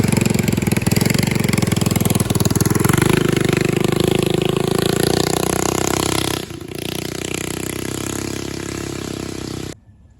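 A mini bike engine running during a throttle test: a loud, steady droning roar that dips briefly about two-thirds of the way through, continues slightly quieter, then cuts off abruptly near the end, with no talk.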